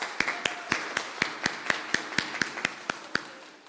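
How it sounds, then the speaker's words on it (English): Sparse clapping at a credit union annual general meeting, about fifteen separate sharp claps in a steady run, like a few hands close by rather than a full crowd. "Give yourselves a round of applause."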